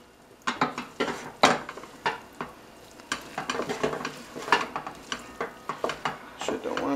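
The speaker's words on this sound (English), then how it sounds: "So it's just a vegetable stir fry" A vegetable stir fry with ramen noodles cooks in a pan, where bursts of scraping and clattering spatula strokes come in uneven clusters over a steady sizzle, heard up close.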